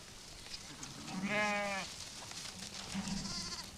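A sheep held by hand lets out one clear, wavering bleat mid-clip, close by, followed by a shorter, fainter cry, with soft handling noise in the background.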